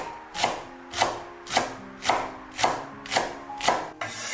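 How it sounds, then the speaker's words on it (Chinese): A knife slicing a green onion diagonally on a cutting board, seven evenly spaced crisp chops close up, one roughly every half second, with no talk. "1小节大葱斜刀切成马蹄片"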